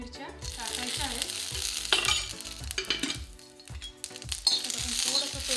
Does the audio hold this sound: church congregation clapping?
no